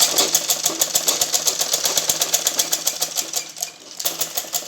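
A sewing machine runs steadily, stitching cord piping along the neckline of a blouse, its needle clattering in a fast, even rhythm close by, with a brief slowdown near the end before picking up again.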